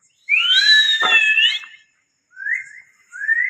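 A person whistles a long, bright, warbling note, pauses, then adds two short whistles, close and clear in a quiet setting.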